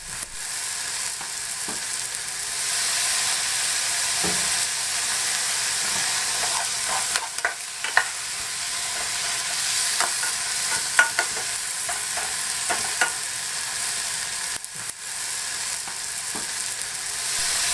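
Cut-up potatoes fry in a single pot of corned beef hash aboard a boat, giving a steady loud sizzle with scattered stirring scrapes and clicks throughout, no voices.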